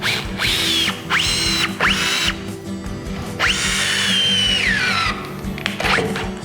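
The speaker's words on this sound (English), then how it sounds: "It's sending these 6-inch ledger locks all the way in there, timber locks, all the way in there in the drill mode." A Festool T-18 drill in drill mode drives 6-inch ledger lock timber screws, whining in rising and falling bursts of motor speed, several short runs and one long sustained drive, close and loud with no talking.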